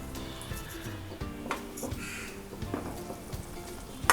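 Makhana (foxnut) gravy simmers in a pan, giving a soft, steady sizzle and gentle bubbling at low volume with faint clinks, and no one speaking.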